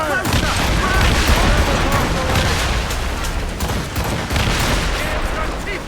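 Ship mortars and cannons in Assassin's Creed Rogue fire in a dense, loud naval barrage of overlapping booms and blasts, with shouting voices mixed into the din.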